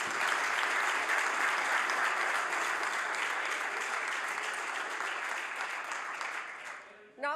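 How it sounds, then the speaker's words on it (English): Dense, sustained applause fills a legislature chamber, loud and even at first, then tapering over the last seconds before a voice starts speaking. "Notwithstanding the self-serving applause"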